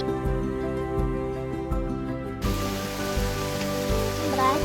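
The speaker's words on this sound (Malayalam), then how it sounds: "മഴ ആസ്വദിക്കുകയാണ്." Monsoon rain in Kerala pours without pause, a steady close patter that grows brighter and fuller halfway through, with no one talking.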